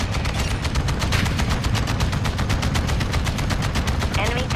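Dense rapid automatic gunfire rattles without pause during a Call of Duty Hardpoint match, loud and close, with booming game sound effects underneath.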